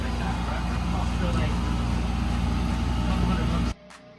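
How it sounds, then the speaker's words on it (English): A Ram TRX pickup truck fitted with new billet front sway bar links drives along, giving a steady, loud rumble of engine and road noise that cuts off abruptly near the end. "Just driving around a little bit just to make sure there's no clicking or anything like that."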